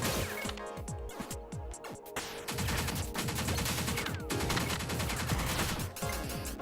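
Rapid gunfire in the top-down shooter Pineapple Smash Crew, with dense bursts of shots and automatic weapon fire layered over steady game music, loud and continuous throughout.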